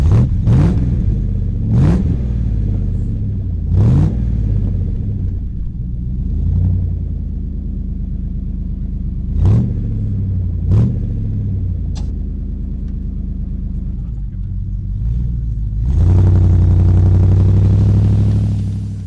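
A Triumph Stag V8 engine with an unusual engine problem revving in repeated sharp bursts with a burbling idle between them, then a steadier, louder rev near the end.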